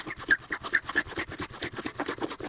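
A homemade eraser rubbing dried masking fluid off a painted black acrylic background, quick rhythmic back-and-forth scratchy strokes, close and fairly quiet.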